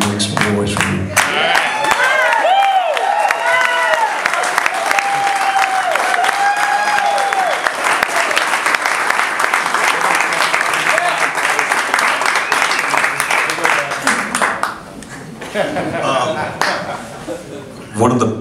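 An audience applauding a guitar player, dense close clapping with cheers and some laughter, swelling then tapering off near the end, with someone speaking over the crowd.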